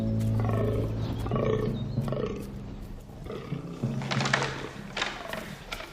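Fallow deer stags calling in the rutting season, recorded in misty Carpathian mountain wilderness in Slovakia: repeated deep, rough groaning bellows, loud and fairly close, several calls in a row with no talking.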